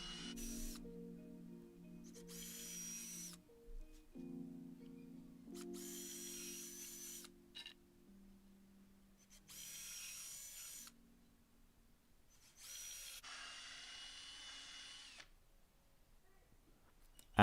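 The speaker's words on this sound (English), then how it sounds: "Now I just needed to drill out some pilot holes." A power drill whines in several separate bursts of a few seconds each, drilling pilot holes in pallet wood, with short quiet gaps between them, fairly close and without speech.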